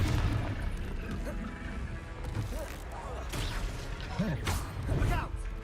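Fire spell blasts and crashes during Hogwarts Legacy combat, with whooshes and impacts scattered through a busy, noisy battle mix while a voice speaks over the action.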